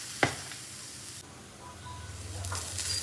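Black pepper roasting in a frying pan gives a soft, steady sizzle, with a brief clink near the start and a faint scrape of stirring, close and fairly quiet.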